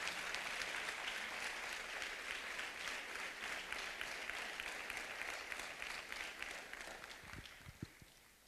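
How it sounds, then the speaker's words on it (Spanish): A church congregation applauds during a Spanish-language sermon on the spirit and power of Elijah, a broad, steady wash of many hands clapping that slowly fades toward the end, with a few thumps near the close. "Puede usted dar una ofrenda de palmas al Señor."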